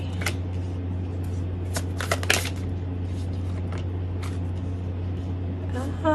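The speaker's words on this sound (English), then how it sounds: "I'm just gonna get some more cards so I can kind of understand." Tarot cards shuffled and drawn for a Leo love reading, with crisp riffling bursts and quick flicking snaps close to the mic over a steady low hum, the card noise coming in short clusters.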